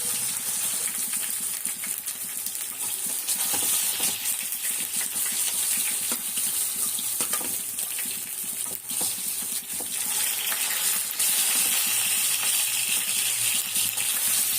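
Koduva fish, barramundi, frying in oil with a continuous bright, crackling sizzle, nearby and even throughout, with sporadic sharper pops and no talking.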